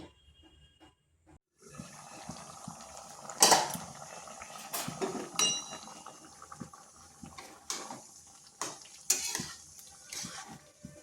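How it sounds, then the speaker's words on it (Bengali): Water poured into a pot of soaking lentils, then a lid set on top, with scattered clatters and clinks of metal against the pot over a low background. "এরপর এখানে দিচ্ছি পরিমাণ মতো জল এরপর এটাকে ঢাকা দিয়ে 10 থেকে পনেরো মিনিট রেখে দিচ্ছি"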